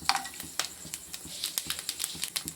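Cinnamon, cloves and fennel seeds dropped into hot oil in a pan, crackling and popping in quick, irregular close bursts.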